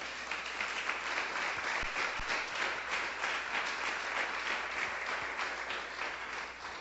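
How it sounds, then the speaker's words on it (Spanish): A church congregation applauds together, a dense, sustained round of clapping that fills the room at an even level throughout. "¿Cuántos aplauden el nombre del Señor?"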